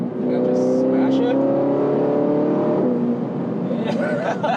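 An Audi R8 with an S-Tronic transmission downshifts and accelerates, giving a loud, sustained engine drone with shifting harmonic tones over about four seconds while a person talks over it.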